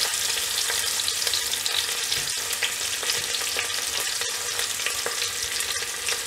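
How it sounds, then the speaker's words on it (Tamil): Onions fry in a pan for Tamil-style mint rice, giving a steady, dense sizzle with occasional light stirring clicks throughout, close and loud with no voices. "வெங்காயம் ஆட் பண்ணிவிட்டு இதை நல்லா வந்து ஒரு கோல்டன் ப்ரௌன் கன்சிஸ்டன்சிக்கு நல்லா வதக்கி எடுத்துடலாம்"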